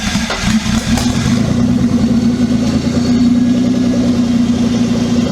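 A twin-turbo Triton engine running after being cranked, a loud, steady, throbbing mechanical drone with a strong low pulse, heard close with no talk over it.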